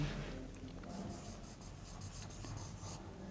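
Writing on a classroom board gives soft, steady scratching strokes close by at low volume, with faint room hum and a hint of a voice in the background.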